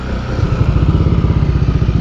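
A Honda PCX 160 scooter engine hums at a steady pulse during a group ride, loud and close, with a rapid rhythmic chug under a constant wind rush.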